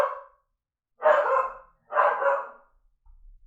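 An older dog gives three rough, drawn-out growling bursts at a steady pace, close and fairly loud, with silent gaps between them.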